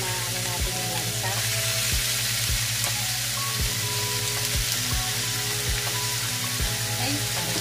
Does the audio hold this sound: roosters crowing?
no